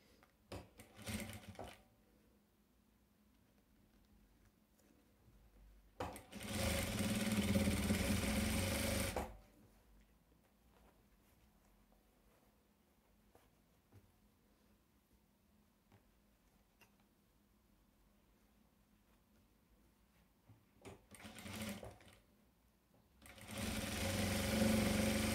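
A sewing machine stitching a zigzag patchwork quilt runs in steady bursts, a short one near the start, a longer run of a few seconds, then a final run after a long quiet stretch.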